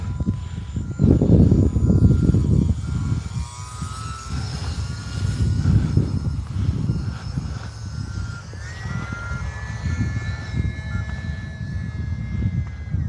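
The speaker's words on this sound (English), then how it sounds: "This airplane is such a hoot to fly." An E-flite UMX Turbo Timber small electric RC airplane flies on an evening outing, its motor a steady buzzing drone that rises in pitch as it throttles up and passes, heard alone against light outdoor background noise.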